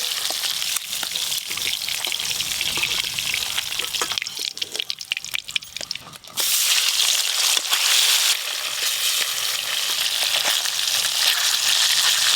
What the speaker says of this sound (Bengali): ইলিশ মাছ ভাজা হ্যাঁ